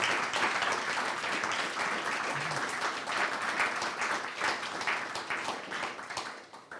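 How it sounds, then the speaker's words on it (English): Audience applause at a tech conference, steady clapping from a crowd that holds for nearly seven seconds and tapers slightly at the end, with no talk over it. "Give him a round of applause."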